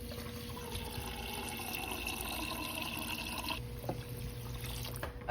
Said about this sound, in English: gonna fill our measuring cup up